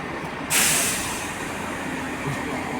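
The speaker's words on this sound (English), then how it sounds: "So that's the Horsham train departing right there" A Horsham-bound train pulls away from Redhill station, a sharp hiss of air brakes up close giving way to a steady rumble that carries on without any talk.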